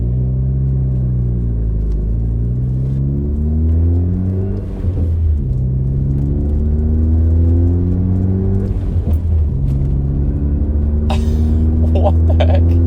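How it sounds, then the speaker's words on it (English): A Ford F-series truck cruising through a neighborhood, heard from the cab: a loud, steady low engine hum and road drone with repeated rising revs as it shifts through gears, and a faint rattle near the end. "I hear more road noise now"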